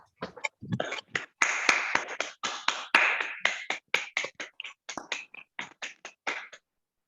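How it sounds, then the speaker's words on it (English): A short burst of applause from a small group at a Toastmasters meeting, clapping in uneven bursts that thin out toward the end. "Let's hear a big round of applause for our special guest speaker today, Toastmaster Fursey."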